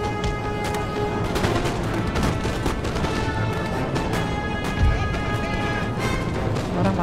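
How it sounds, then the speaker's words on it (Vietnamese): Steady, dense musket gunfire from infantry firing into a flank during a Napoleon: Total War battle, with sharp cracks over a continuous roar of battle noise that lasts throughout. "Đang bị bắn tạt sườn rồi."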